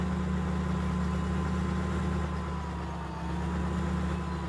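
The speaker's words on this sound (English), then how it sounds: "Nice deep roaring engine." A John Deere 8530 tractor engine in Farming Simulator 15 idles with a deep, low rumbling drone, constant and fairly loud, no voices present.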